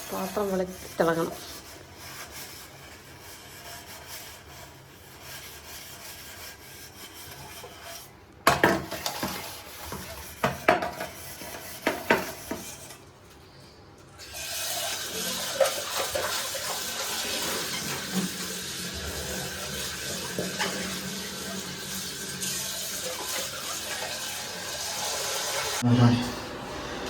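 Pots are scrubbed and washed in a kitchen sink: rubbing and scouring strokes, clinks of metal cookware and running tap water, with brief pauses and occasional voices in between.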